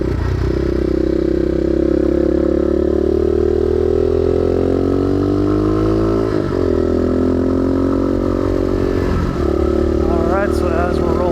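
Modded Gryffin 250 motorcycle with an aftermarket exhaust downshifting while riding, loud and close, with the engine note rising and falling through several gear changes and crackling, burbling blips on deceleration.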